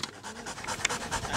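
A mine detection dog pants close by in a quick, steady rhythm of short breaths, continuous throughout.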